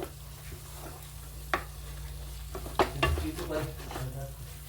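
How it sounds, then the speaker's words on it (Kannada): A spoon or spatula stirs rice into palak masala in a frying pan, giving a soft scraping and faint sizzle with a couple of sharper clinks against the pan, all close and fairly quiet. "ಇವಾಗ ರೈಸ್ ಹಾಕ್ಕೊಂಡಿದ್ದೀನಿ. ಇದೆಲ್ಲ ಮಿಕ್ಸ್ ಮಾಡಿಕೊಂಡ್ರೆ ಮುಗೀತು"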